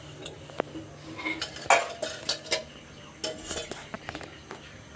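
A kadai set on the stove for a paneer dish, with metal clanks and clinks of the pan and utensils in short scattered knocks, close and fairly quiet.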